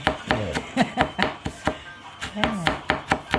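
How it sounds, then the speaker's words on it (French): A knife chops parsley finely on a board, about a dozen quick, crisp, evenly spaced chops close by, with a short pause midway. "on va couper le persil fin. Voilà, c'est mon fils qui va le couper"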